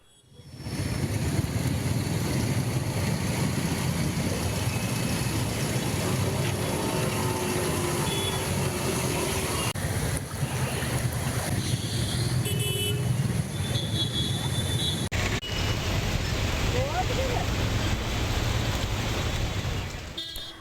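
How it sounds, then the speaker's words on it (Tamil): Vehicles driving through a rain-flooded city road in Coimbatore after heavy rain, a continuous wash of traffic noise and splashing water with occasional horn toots and beeps, steady and fairly loud, no talk. "கோவையில் 1 மணி நேரம் பெய்த கனமழையால் மாநகர் முழுவதும் மழைநீர் தேங்கியதால் போக்குவரத்து பாதிக்கப்பட்டுள்ளது."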